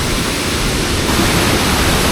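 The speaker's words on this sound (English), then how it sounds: "The waterfalls here are so big." A large waterfall at Doi Inthanon, Thailand's highest peak, roaring as a constant broadband rush of falling water, loud and close with no voices.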